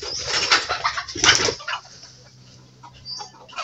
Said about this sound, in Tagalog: May narinig ako ditong huni ng ibon.